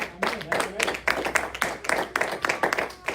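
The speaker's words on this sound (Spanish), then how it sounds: "Dele un aplauso al Señor, porque Él es bueno." A church congregation claps in praise, a burst of quick rhythmic clapping from many hands that stays steady for a few seconds, close and fairly loud.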